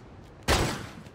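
A single loud, sharp pistol shot from the PC video game Godfather 2 bursts out suddenly, then its rumbling tail fades over the next half second.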